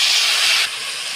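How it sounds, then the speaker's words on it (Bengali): Spices hit hot oil with potato and papaya curry, producing a brief loud sizzling hiss that drops slightly in level partway through. "এখন মশলা দিয়ে দিব, জিরা, রসুন, আদা, তারপর পেঁয়াজ বাটা, হলুদ, নুন সব দিয়ে একবারে ভেজে নেব"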